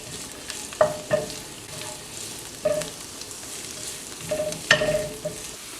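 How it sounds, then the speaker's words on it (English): Cabbage fries in heated oil in a wok with a steady sizzle, broken by several sharp metallic scrapes and stirring clanks of a spatula, close and fairly loud. "Now that the oil is heated up, add in the cabbage and cook the cabbage for about 2 to 3 minutes."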